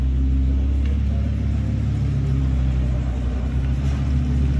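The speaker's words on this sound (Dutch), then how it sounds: "Daar gaat hij weer, de R8. De R8 V10 Spider." An Audi R8 V10 Spider gives off a deep, steady engine rumble close by that holds at an even level throughout, with no voices.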